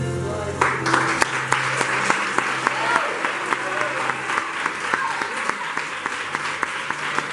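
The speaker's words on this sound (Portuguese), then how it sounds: "Aplausos." A church congregation claps steadily after a sermon, loud and close, with sharp individual claps punctuating the sustained applause and low background music or hum throughout.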